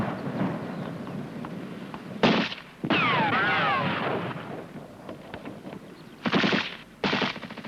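Machine gun fire on a military training range, bursts of automatic shots with sharp cracks and whistling ricochets, some bursts close and loud, others fainter.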